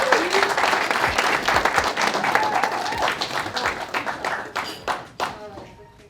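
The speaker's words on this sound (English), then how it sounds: "let's give Coach Val a round of applause" An audience at an AGC Minneapolis talk applauds Coach Val, a dense burst of many hands clapping that swells, then thins and fades toward the end, with a few voices mixed in.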